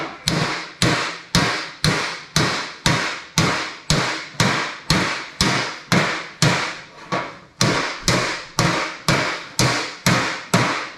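A shrinking hammer with a waffle head strikes sheet steel on a Dodge D150 body in a steady rhythm, about two blows per second, each sharp ringing hit decaying quickly, loud and close with no voices.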